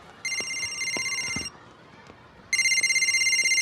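A telephone bell rings in two long, loud bursts separated by a pause of about a second. No one speaks over it.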